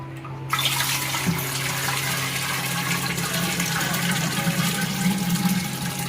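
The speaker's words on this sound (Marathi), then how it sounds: "इथे मी आता पाणी घेतलं आहे आणि आपल्याला मटका ना फुल व्यवस्थित असा भरून ठेवायचा आहे" Water pours steadily into a new clay water pot (matka), a continuous close splashing fill that runs alone for the whole stretch.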